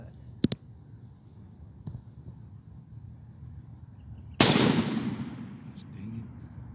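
A single loud shotgun blast aimed at a turkey target booms close by after a few faint clicks and taps, its report trailing off into a decaying rumble outdoors.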